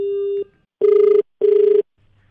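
A telephone ring tone plays loud and clear: one long steady tone, then two evenly spaced pulsing ring bursts, with nothing else around it.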